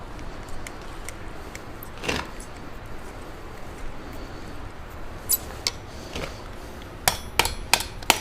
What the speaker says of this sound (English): Using a rawhide hammer to make sure everything stays straight.